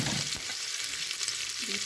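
Onion and garlic for pulao frying in hot oil in a pan, a loud, steady close-up sizzle with light stirring and no voices.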